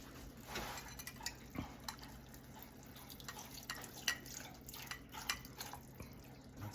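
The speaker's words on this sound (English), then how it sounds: "The next thing that goes in is a half a cup of beef broth." Beef broth is poured into a cooking pot, giving faint, quiet liquid splashes and drips over a soft background hum, with no talking.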